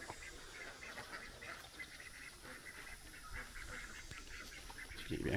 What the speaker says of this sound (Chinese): 好多鸭鹅。